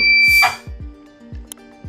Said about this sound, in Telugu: ఇక్కడ కూడా బజర్ సౌండ్ వస్తుంది చూడొచ్చు